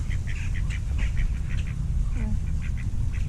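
Ducks at a lake quack repeatedly in nasal bursts, several birds overlapping at close range over a steady low rumble of wind or handling noise, with a brief voice in the background.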